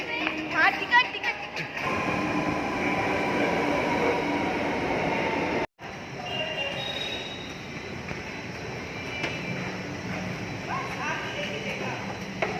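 Loud rumbling of a Lucknow metro train in motion with a steady roar and a brief cut, while people, including a child, talk over the noise.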